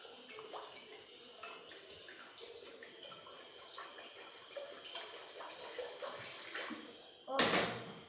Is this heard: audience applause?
no